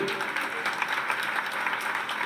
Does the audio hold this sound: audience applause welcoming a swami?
yes